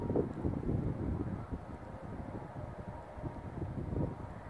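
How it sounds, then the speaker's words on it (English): Low, rumbling cold wind buffeting a microphone outdoors at a cemetery, a steady muffled roar that swells and dips without pause. "gonna sit in the car because it's cold and windy"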